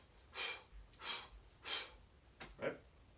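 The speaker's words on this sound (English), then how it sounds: "I like to focus on breathing out" Forceful exhalations during kettlebell double swings: four sharp breathy puffs, three evenly spaced and a quicker final pair, close and fairly quiet with no talking.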